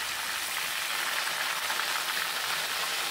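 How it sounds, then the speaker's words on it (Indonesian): Tempe and tofu coated in spices frying in hot oil over medium heat, a continuous dense crackling sizzle at steady loudness with no voices. "Goreng tempe tahu dalam minyak panas api sedang."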